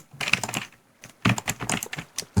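Computer keyboard and mouse clicking near a phone microphone, quick irregular bursts of tapping clicks with short pauses between flurries.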